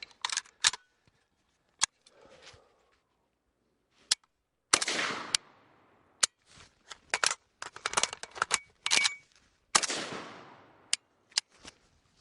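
AK-74 rifle magazine handled during a reverse reload: a series of sharp metallic clicks and clacks, with bursts of rattling and scraping, spread unevenly across the span with quiet gaps between, close and fairly loud, with no talking.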